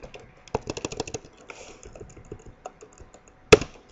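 Code being typed in C# on a computer keyboard: bursts of quick close key clicks, a pause, then a few more taps ending on a sharp louder keystroke.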